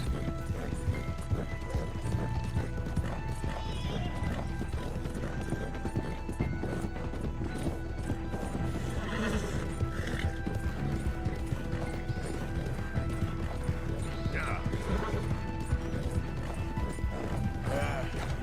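Horse hooves clip-clopping steadily at a gallop in the Western video game Red Dead Redemption 2, with a brief whinny partway through, continuous game ambience and occasional talk over it.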